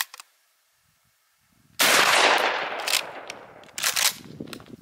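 A shotgun with an 18-inch smooth bore barrel fires a Remington 3-inch slug in a single loud, sharp blast after a near-silent lead-in, followed by a long ringing decay and a second burst of noise.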